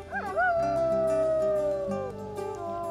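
A voice reading a children's story aloud imitates a monster's howl: a long, wavering, rising then sustained tonal wail held for about two seconds, clear and close, then tapering off.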